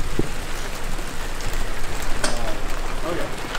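Steady rain falls on an outdoor film set, a dense continuous hiss with scattered droplet patter throughout and no clear talk.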